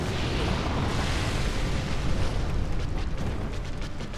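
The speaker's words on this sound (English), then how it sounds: "Come breathe fire on this side of the map." A dragon breathes fire in Dark Souls Remastered, a loud continuous roaring rush of flame, steady and dense for the whole stretch with no pauses.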